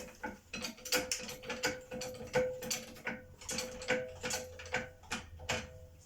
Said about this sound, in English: So what I've got to do now is jack up the front.